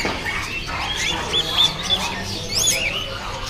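Pigeons in cages at a pet market in Kuwait give a busy run of squawks and chirps, several close calls rising over a steady murmur of market noise.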